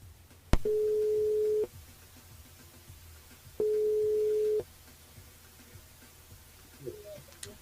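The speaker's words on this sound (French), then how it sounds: "on appelle Johnny avant de faire notre tirage de sort" A telephone line signal sounds during a radio call-in, two long steady tones each about a second, separated by a pause, with a faint click before the first and low room noise between.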